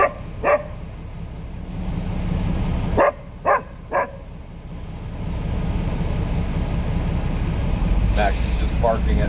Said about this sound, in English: Max is just barking at nothing and no one.